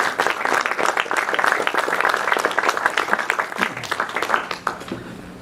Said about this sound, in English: So if we could, a round of applause.